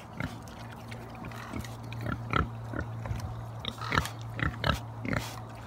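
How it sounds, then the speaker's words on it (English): Pigs grunting and oinking near a trailer in the woods, a run of short snorts and grunts at irregular intervals over a steady low hum, fairly close. "Just wanted to know what all the oinking was about."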